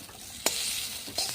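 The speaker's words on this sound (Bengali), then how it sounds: "ইপিটা আমি ভালো করে ভেজে নিয়েছি, লাল লাল করে।" Potatoes and onions fry in a pan for a Maggi noodle dish, a close, soft sizzle broken by a couple of quick scraping stirs.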